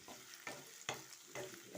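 Chopped onion and green chili fry in a pan for flattened-rice pulao, with a faint sizzle broken by four quick stirring scrapes at a fairly even pace.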